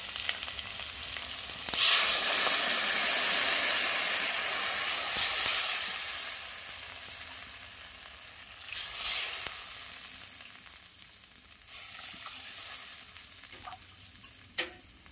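Fish curry gravy bubbling and simmering in a pan after water is added, a steady close hiss and sizzle with occasional louder bursts of bubbling and clatter, no voices.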